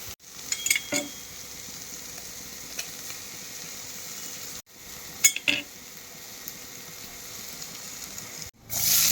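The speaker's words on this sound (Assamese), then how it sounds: "তৰা গছ আৰু আলু পূৰা ভাজি আছোঁ, হিলাই আছোঁ পূৰা।" Tora plant stalks and potatoes fry in a pan, a continuous close sizzle broken by scraping stirs and clinks of a utensil against the pan, with no one talking.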